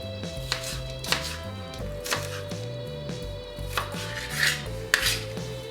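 A knife chops an onion into large dice on a cutting board, a series of crisp knocks at an even pace, close by with no talking.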